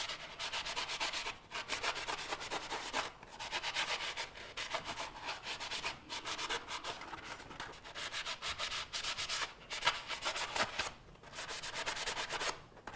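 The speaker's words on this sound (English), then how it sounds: "I'm going to take this little hand sander here, and get all of the gunk off the top of that here" A small hand sander scrubs gunk off Nintendo Mario Bros two-way joystick parts in quick, rasping back-and-forth strokes with short pauses between bursts, close and fairly quiet, with no talking.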